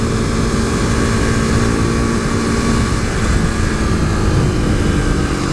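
A modified 2015 KTM RC 390 single-cylinder motorcycle engine pulls steadily in fifth gear while riding, a loud continuous drone with wind rush and no voices.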